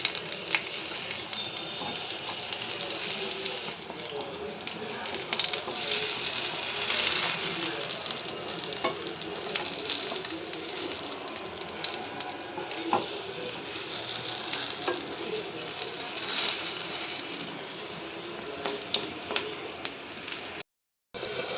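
Vegetarian fritters fry in a pan with a continuous close sizzle and crackle, broken by occasional stirring scrapes and small clinks, holding a fairly even level throughout.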